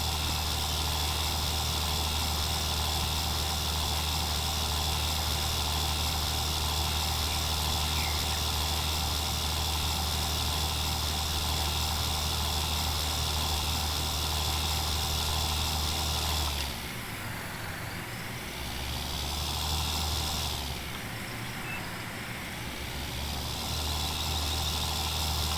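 John Deere tractor engine running in Farming Simulator 19, a steady loud droning hum that dips and shifts twice near the end as the load changes.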